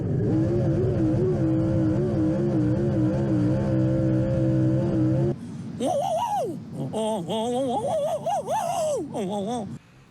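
A dirt late model race car drones loudly off the corner for about five seconds, its engine tone holding steady with a slight wavering pulse, before voices and laughter take over.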